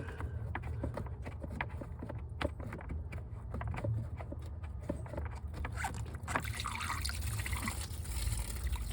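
Coolant-flush water runs steadily out of a 2002 Chevy Tahoe radiator, a continuous splashing trickle that stays fairly loud and even throughout, with no voices.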